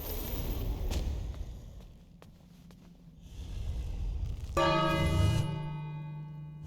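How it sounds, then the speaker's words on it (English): A bell rings out in the King's Quest adventure game: a sudden bright, resonant clang with sustained ringing overtones that decays over a second or so, following quieter ambient game sounds and a few faint clicks. "Then we want to ring the bell."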